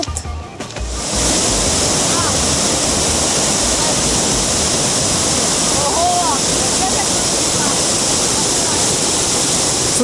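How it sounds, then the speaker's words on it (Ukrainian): A waterfall in Turkey's Göynük canyon area, freshly formed after heavy rains, roaring as a dense continuous rush of falling water, close and loud, steady throughout after a brief softer start. "я думаю, що цей водоспад виник саме після цих дощів"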